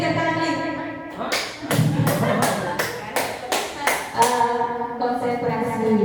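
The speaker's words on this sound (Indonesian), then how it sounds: "tepuk 3 kali." Hands clap sharply in unison, a run of about seven crisp group claps in a quick steady rhythm, with a voice talking before and after them, all close and fairly loud.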